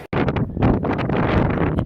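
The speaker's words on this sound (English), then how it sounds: "It is rather windy" Strong wind at the Hoover Dam, Arizona, buffets the microphone in loud, continuous rumbling gusts, broadband and roaring, with a brief dropout near the start before the blustery noise resumes.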